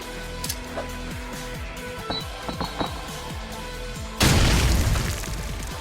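A grenade bursts on the Backlot map in Counter-Strike, a sudden loud boom with a rumbling tail that cuts through steady game ambience and scattered distant gunfire and footsteps.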